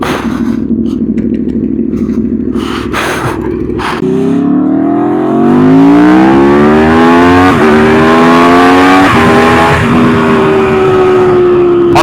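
A car engine revs hard and loud nearby on a sunny California street beside a McLaren 720, rising in repeated sweeping climbs after a steady idle, with no talking.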